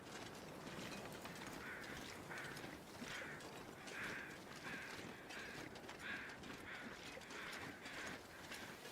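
Crows in The Long Dark cawing during a whiteout, about eight harsh, evenly spaced caws roughly once a second, mid-distance over a steady roar of wind-like noise.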